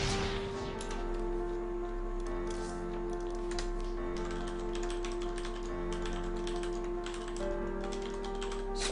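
Rapid, steady clicking of keys being typed on a computer keyboard during an esports match broadcast, quiet and continuous over a low electronic hum, with no talking.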